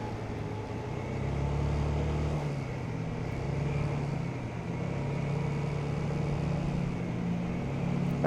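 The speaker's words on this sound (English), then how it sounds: "That truck sounds like it's gonna fly away." A truck passing by, heard as a steady low road roar that swells around the middle of the recording and stays loud and droning, with wind-like broadband noise and no talking.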